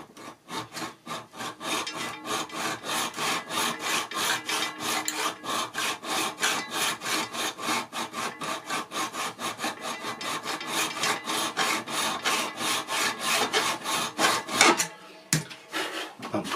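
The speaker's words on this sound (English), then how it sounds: "I'm just touching the web with my file now" Hand file rasping a long taper onto a model railway rail for turnout construction, in rapid, regular back-and-forth strokes that stay close and steady until a brief pause near the end.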